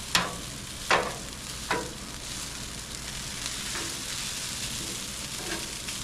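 Food frying on a Blackstone griddle gives a steady close sizzle with a few sharp scraping clacks of a spatula in the first two seconds, then continuous crackling hiss.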